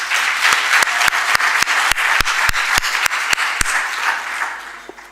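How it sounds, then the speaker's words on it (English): Applause at a training institute graduation ceremony, honoring the graduates' families: a crowd clapping steadily, with a few loud, sharp individual claps standing out close by. "let's applaud your family as well"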